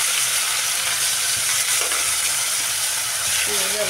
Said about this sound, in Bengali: পেঁয়াজ আর রসুন লাল লাল করে ভেজে নেবো